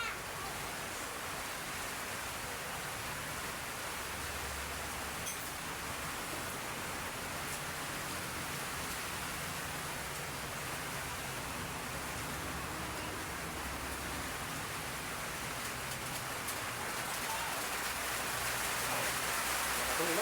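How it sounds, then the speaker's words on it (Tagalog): Steady rain pours down in a continuous hiss, dense and even throughout with no pauses, fairly soft overall. "Ito ulan, oh."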